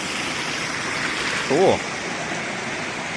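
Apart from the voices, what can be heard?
underground spring water flowing out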